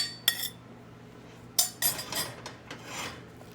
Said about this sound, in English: Let me mix in my ground beef here